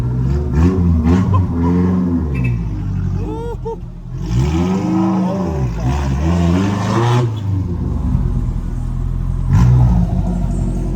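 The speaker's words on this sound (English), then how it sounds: "that is the distinctive sound of the 4AG. I love the way these engines sounds with ITBs." A small Toyota 4AG four-cylinder engine with individual throttle bodies revs repeatedly, rising and falling in pitch with a raspy intake snarl, loud and close, over a steady idle.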